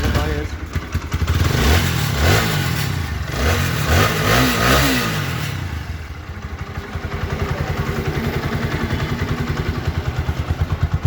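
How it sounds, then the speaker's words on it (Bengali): A second-hand 4-valve motorcycle engine idles with a rough, rapid putter, revs up several times in rising and falling surges, then settles back to a steady throb. "এবার আপনাদের একটু বাইকের সাউন্ডটা একটু দেখাই দিই"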